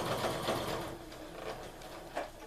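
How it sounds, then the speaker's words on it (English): A sewing machine stitches a scant quarter-inch seam through layered sweater mitten fabric, running in short, quiet bursts of rapid whirring that slow and restart. "we're going to sew a scant 1/4 inch seam on the sewing machine to get these layers all stitched together"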